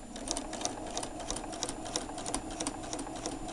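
A computerized sewing machine with automatic thread cutter and presser foot lifter stitches fabric for a bat project, a steady, fast, even mechanical chatter held close throughout, with no talking.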